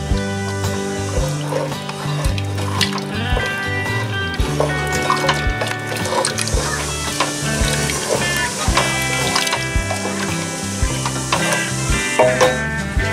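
Boiled rajma beans and their cooking water are stirred into a masala in a pot, giving a busy, continuous clatter of a spoon scraping and knocking against the vessel, with a soft wet sizzle underneath, close and fairly loud.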